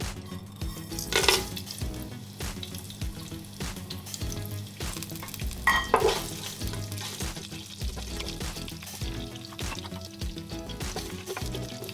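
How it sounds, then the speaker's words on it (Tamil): Cloves, cinnamon, cardamom and fennel seeds sizzle and crackle steadily in hot oil for crab biryani, a continuous close frying hiss with occasional louder pops and stirring scrapes. "ஆயில் கொஞ்சம் ஹீட் ஆனதும் நம்மளோட இந்த கிராம்பு பட்டை ஏலக்காய் கொஞ்சம் சோம்பு எல்லாத்தையும் ஆட் பண்ணிடலாம்"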